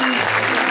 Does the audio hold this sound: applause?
yes